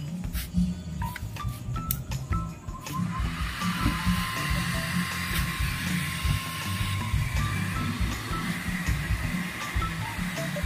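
A new snail-type centrifugal fan blower for a used-oil stove whirs with a steady, dense airy roar, a few sharp clicks at the start, then a constant rushing hum with no speech.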